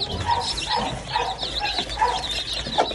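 Chickens and small chicks cluck and peep together in a busy, continuous chorus at moderate distance, mixed with general yard noise.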